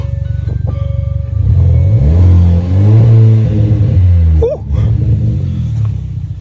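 A 2021 Hyundai Elantra N-Line with a muffler-delete straight-pipe exhaust and cold air intake roars and revs in rising, falling pulses, loud and close, with a brief yelp-like squeak partway through.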